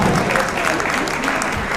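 Steady applause from an audience at a fashion show event, continuous and fairly close, a broad wash of clapping with a faint murmur beneath it.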